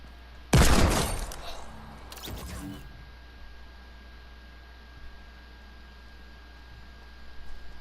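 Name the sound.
gunshot in a video game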